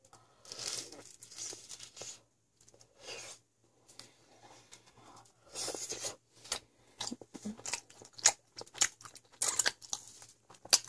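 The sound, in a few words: biting and chewing spicy pork triangle kimbap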